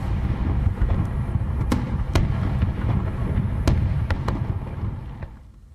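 New Year fireworks over Auckland, New Zealand, a continuous distant rumble of bursts broken by several sharp crackling bangs, steady throughout and fading slightly at the end.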